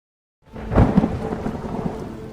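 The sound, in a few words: thunderstorm with rain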